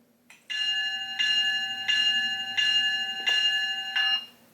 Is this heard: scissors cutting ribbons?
no